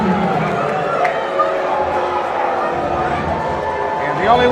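Disgruntled crowd at a Big Time Wrestling March Mayhem event fills the arena with a steady, dense roar of voices and scattered shouts, holding at an even, loud level throughout.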